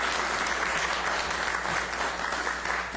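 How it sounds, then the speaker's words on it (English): An audience at a procurement workshop applauds in a dense, steady round of clapping that holds its full strength across the whole stretch, with no voices standing out. "a big round of applause for the ladies"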